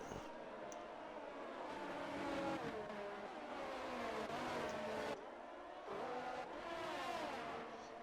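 Race cars in a sim racing game at the Spa circuit, continuous loud engine whine with repeated rising and falling revs as cars pass, no talk.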